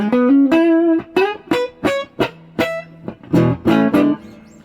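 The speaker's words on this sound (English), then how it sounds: "I'm just plugged into a Bad Cat Cub 15R from about 2002" A 1990s Tanglewood jazz guitar played clean through a circa-2002 Bad Cat Cub 15R amp picks out single notes and short phrases, then a few strummed chords, loud and close with clear ringing sustain and no talking.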